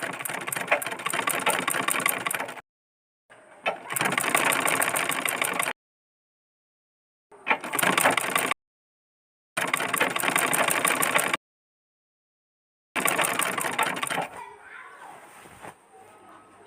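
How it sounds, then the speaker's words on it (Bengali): A sewing machine stitches a pocket onto a fatua in several loud, steady whirring runs of a few seconds each, separated by silent pauses, with a softer mechanical rattle near the end. "পরবর্তীতে আমি এটাকে সেলাই করে নিই।"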